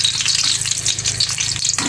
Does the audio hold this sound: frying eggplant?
yes